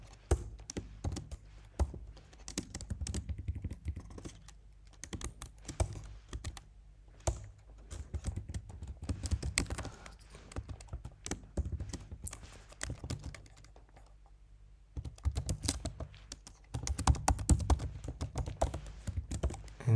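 Computer keyboard typing while custom code is entered into a Shopify Dawn theme: close, steady runs of clattering keystrokes in bursts, broken by short pauses and one longer silence before typing resumes.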